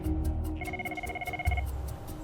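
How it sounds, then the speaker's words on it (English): The scramble phone at an air ambulance helicopter base rings with a bright electronic tone, a single sustained burst under a background rumble, near and clear. "it's not long before the scramble phone rings"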